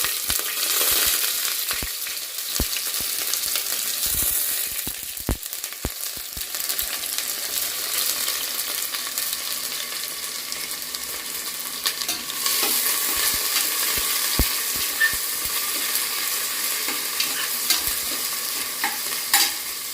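Sliced onions frying in a pan for mushroom biryani, with a continuous hissing sizzle and repeated scraping and stirring clicks throughout, close and fairly loud with no talking.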